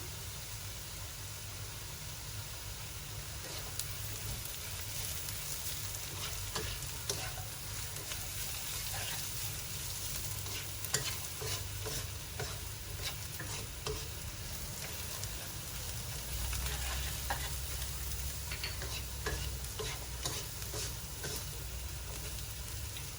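Beetroot stir-fries with cumin powder in a pan, giving a constant close sizzle with scattered scraping and stirring clicks, steady and alone with no talk.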